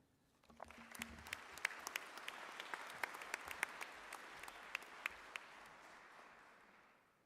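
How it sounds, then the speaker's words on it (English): Audience at a university graduation ceremony breaks into applause that swells quickly, holds steady with a few sharp individual claps standing out, then gradually fades. "let's give Professor Mkansi another round of applause"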